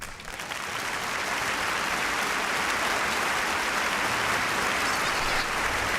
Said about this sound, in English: just give him the best round of applause that you can possibly muster